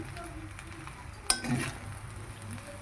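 Fried rice, fluffy white grains tossed with its ingredients, stirred and mixed in a pan, giving a soft continuous scraping sizzle with one sharp clink of a utensil near the middle.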